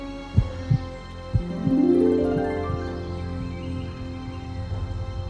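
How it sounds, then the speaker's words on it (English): A few muffled, thudding beats sound at the start, followed by a low swelling hum with rising tones, the pulses soft and dull. "from inside that, they heard the rhythm of a muffled heartbeat"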